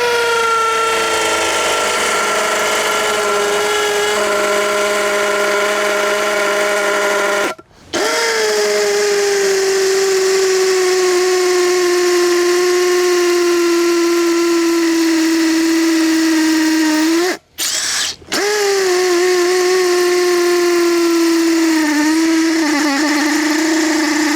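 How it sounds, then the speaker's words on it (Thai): A Stanley Fatmax SBD716D2T cordless hammer drill runs in hammer mode at gear 2, boring into sandstone and cement with an 8 mm masonry bit. It makes a loud, steady, high whine over a long stretch, with two brief pauses and no talk. "ดันไปที่โหมดกระแทกนะครับ แล้วก็อยู่ที่เกียร์2ไปนะครับ นี่ดอกจอปูนขนาด8มิลนะครับ"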